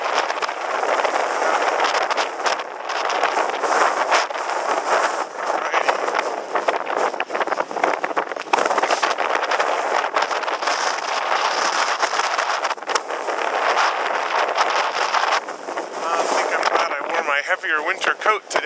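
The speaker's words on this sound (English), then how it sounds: "probably all we're going to hear is wind" Strong, cold December wind buffets a camera microphone at the Jokulsarlon glacier lagoon in Iceland, a loud, continuous roaring rumble with gusty surges and faint voices beneath it.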